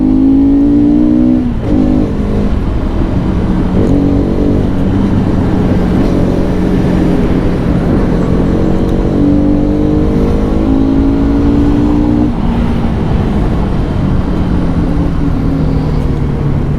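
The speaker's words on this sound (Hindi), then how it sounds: "थोड़ा भगाते हैं गाड़ी को।" Bajaj Pulsar RS200 motorcycle engine revving hard and accelerating through several gear changes, with rising and falling pitch across each shift, loud and close throughout.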